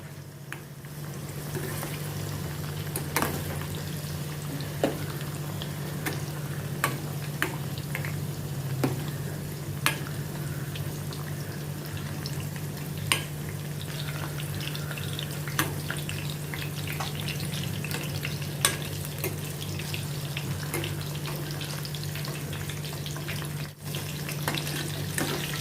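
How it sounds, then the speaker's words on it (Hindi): Tinda (apple gourd) frying in a pan in a home kitchen, a steady close sizzle and crackle with scattered pops and a low constant hum underneath, no voices. "अभी ये टिंडे फ्राई हो गए हैं।"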